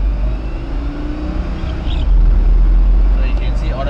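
A Lamborghini Gallardo driving in Singapore, its engine rumbling low and then swelling louder as it accelerates partway through, heard from inside the car with faint voices in the background.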